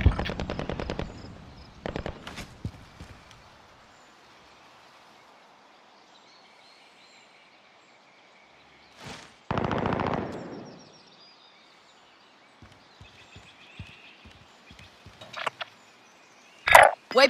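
Bursts of automatic gunfire from the Call of Duty Warzone video game come as sharp rattling volleys at the start, then again after a long quiet stretch, ending with scattered close shots and a final loud burst.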